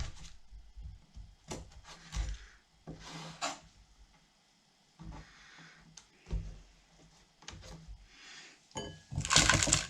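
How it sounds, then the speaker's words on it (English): A knife trims the thorny edges off an aloe vera leaf, making intermittent soft scraping and cutting strokes with small knocks on a board and quiet gaps between them. "you trim the thorns off, or the edge of the plant."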